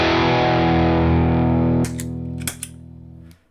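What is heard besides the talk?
electric guitar through Soul Food and Glove effect pedals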